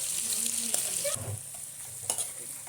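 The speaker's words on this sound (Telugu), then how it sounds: "కరివేపాకు, పచ్చిమిరపకాయలు వేయాలండి. దోరగా కొంచెం వేగేందుకు వెయిట్ చేద్దాం." Curry leaves and green chillies fry in a pan for an egg and prawn gravy, a steady close sizzle with a few sharp crackles and a brief stirring scrape.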